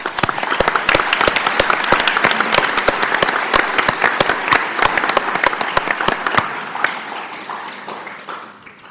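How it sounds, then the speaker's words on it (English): Audience applause at a school district board meeting after a high school Marine Corps Junior ROTC demonstration: dense, loud, steady clapping from a large crowd that holds for several seconds, then fades out. "Let's give them another round of applause."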